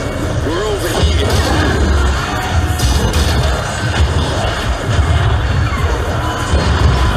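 A roaring arena crowd cheers continuously through the VR mech combat game Underdogs, a loud sustained wash of voices mixed with crashes and metallic impacts from the battle.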